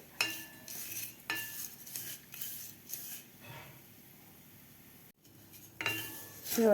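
Vermicelli being stirred in hot ghee in a pan, with repeated metal spoon scrapes and clinks in bursts and a faint low sizzle underneath, close and moderately quiet.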